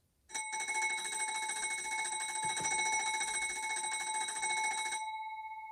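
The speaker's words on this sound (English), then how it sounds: "Function 27 is the fire alarm bell" The fire alarm bell sound function on a DCC model Class 60 diesel locomotive rings as one steady, bright, continuous bell for about five seconds. It then cuts off, leaving a fading tone, loud and close with no talk.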